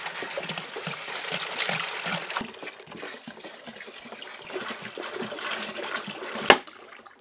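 Water pours steadily into a coolant reservoir, a continuous rushing, splashing fill with a bright knock near the end.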